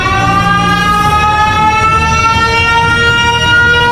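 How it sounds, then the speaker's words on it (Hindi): A loud siren wails steadily and close, its tone sliding slowly upward, with no pauses. "ये देखकर वो अपना सायरन बजा देता है।"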